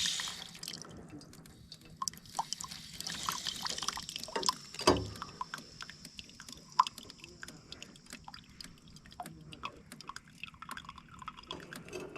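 Water drains from a pressurized tank, dripping and trickling with scattered splashes and a brief gush near the middle, fairly quiet and close.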